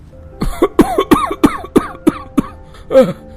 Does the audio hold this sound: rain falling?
no